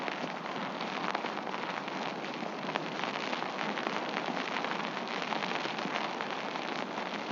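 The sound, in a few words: rain falling with an onshore breeze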